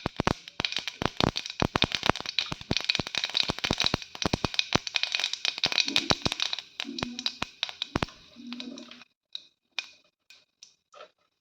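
Mustard seeds, cumin and dal splutter and pop in hot oil for a Tamil sundal, a dense burst of sharp crackles that gradually thins into sparse, scattered pops, close up with no talking.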